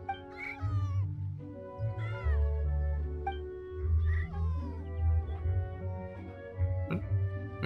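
Cat meowing in Genshin Impact, a series of drawn-out, wavering meows and caterwauls close up, repeated several times over a low steady background tone.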